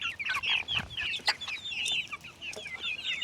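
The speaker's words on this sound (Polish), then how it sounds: "Taka kura żółta." Several hens cluck and chatter nearby in a busy, continuous flurry of short, high calls with no pauses.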